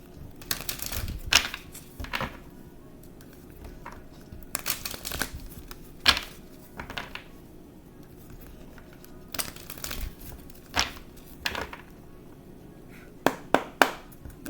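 Repeated bursts of riffling and snapping cards, several quick shuffles spaced across the clip with soft handling noise between, close and moderately loud.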